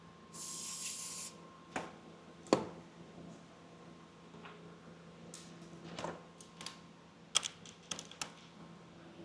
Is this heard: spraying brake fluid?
yes